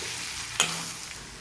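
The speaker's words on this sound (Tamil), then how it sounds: "கத்திரிக்காய் நல்லா வதங்கிடுச்சு, வெந்துருச்சு" Brinjal frying in a pan for a brinjal podi curry gives a soft, steady sizzle over a short moment. A single sharp utensil click lands partway through, and there is no talking.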